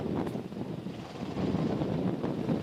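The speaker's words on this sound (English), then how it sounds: "I can hardly hear you because there's a chopper hanging on top of the boat." A helicopter hovers over a racing sailboat, heard as a faint, steady rotor wash under wind buffeting the microphone.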